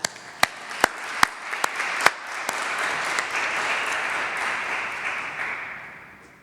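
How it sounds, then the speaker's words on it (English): At a higher-education commencement, a few separate, sharp claps come first, then the audience joins in a full, warm round of applause that swells, holds, and gradually tapers off. "please join me in offering him a warm round of applause"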